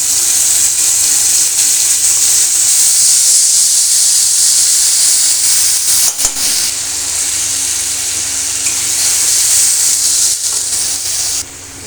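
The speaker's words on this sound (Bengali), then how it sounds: "ওই তেলের মধ্যে দিলাম শুকনো লঙ্কা, 5 ফোড়ন, লবণ, হলুদ," Dried chillies, five-spice seeds, salt and turmeric sizzle in hot oil in a pan after fish for a katla curry has been lifted out; a steady, loud frying hiss runs throughout with no speech.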